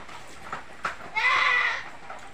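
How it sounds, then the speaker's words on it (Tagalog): Goats on a farm bleat while several of them gang up on a single goat, with a brief sharp cry followed by one loud, drawn-out bleat close by in a short burst. "Binubuli nila isang kambing."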